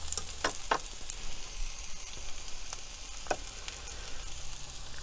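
Onions sizzle in a pan, softening in oil with a steady crackling hiss throughout and a few sharper pops and stirring scrapes, close and continuous.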